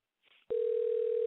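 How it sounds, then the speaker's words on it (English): Steady telephone dial tone sounds loud and continuous after a brief soft rustle and a sharp click, holding unbroken to the end. "I'll pull up that dial pad, and I will hit dial one more time"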